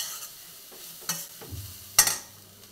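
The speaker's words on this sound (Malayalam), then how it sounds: "ചെറിയ രീതിയിലിട്ട് നല്ല ബ്രൗൺ കളറാകണം, അതുവരെയാണ് വറുത്തെടുക്കാം" Bitter gourd frying in oil in a pan with a soft steady sizzle, broken by a few sharp scrapes and clatters of a spoon stirring, the loudest near the end.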